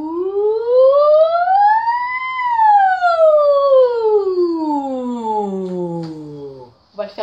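A singer's voice imitates a siren as a vocal warm-up, one long smooth glide rising in pitch then slowly falling, loud and close, ending with a short breath.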